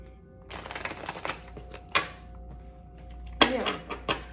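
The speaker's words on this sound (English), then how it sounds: "All right, it's last shuffle." A deck of reading cards is shuffled by hand in a few quick riffling bursts with soft taps between them, close and fairly quiet.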